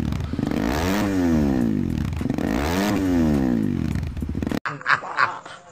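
Kawasaki KLX 230 SE motorcycle engine revving loudly up and down in two long rising and falling sweeps close by, ending abruptly in a short burst of background noise.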